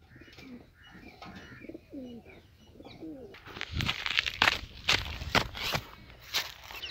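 Pigeons coo softly in low, rolling calls, followed by a burst of louder flapping and rustling nearby.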